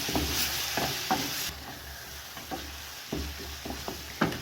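Goat tripe (matumbo) being stirred in a frying pan: repeated scraping strokes of a utensil at an uneven rhythm over a soft, steady sizzle, close and moderately quiet, with no voices.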